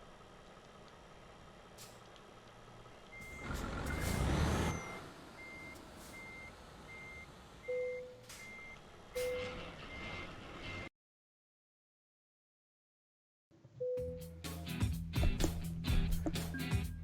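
Repeated reversing beeps from a truck in Euro Truck Simulator 2, reversing up a steep snowy hill to park, with steady beeps over engine rumble and a brief air-brake hiss, then a gap of silence and more busy game sounds.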